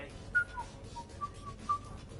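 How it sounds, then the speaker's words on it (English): A short whistled tune of a few bright, sliding notes from the video game Mass Effect, fairly quiet, over a low background hum. "Are you whistling?"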